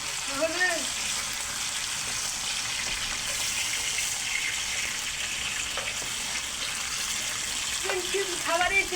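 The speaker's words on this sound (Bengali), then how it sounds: "একটু দূর থেকে ছাড়বেন শরীরে প্রচুর পরিমাণ তেল ছিটে আসতেছে" French fries bubble and sizzle in a pan of hot oil, a continuous near hiss with occasional sputters, and a voice speaks briefly over it.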